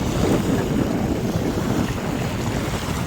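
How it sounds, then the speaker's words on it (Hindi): Strong river waves wash steadily against an eroding earthen bank in the evening, a dense, continuous rushing roar mixed with wind buffeting on the microphone, with no talking. "ये देखिए कितनी तेज़ लहर है और यही लहर धीरे धीरे किनारे पे जो है मिट्टी काटती है।"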